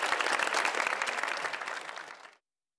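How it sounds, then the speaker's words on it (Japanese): Audience applause for a basketball player from a prefectural special-needs school team in Miyazaki, a dense sustained clapping from a crowd at a school event that fades out after about two seconds. "皆さんもう一回大きな拍手を送ってあげてください。"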